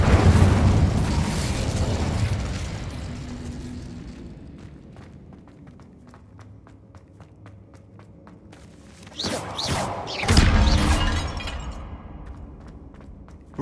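Fire spell cast in Hogwarts Legacy, a loud whooshing, crackling blast that fades into scattered clicks and small pops, followed by a second burst of roaring flame and crackle near the end, with no talking.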